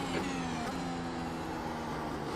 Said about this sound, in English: There's a car leaving the pit I lane.